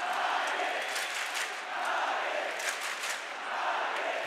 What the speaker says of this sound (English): Well, listen to that crowd.